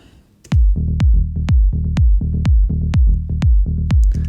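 Melodic techno synth loop built in the Diva synth, with a punchy kick drum thumping on every beat under short pulsing synth stabs, loud, tight and steady.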